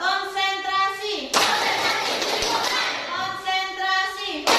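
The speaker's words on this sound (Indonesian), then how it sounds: "Tepuk konsentrasi." A primary-school class performs the concentration clap rhythm, with a burst of many hands clapping together in the middle, set between stretches of a teacher chanting.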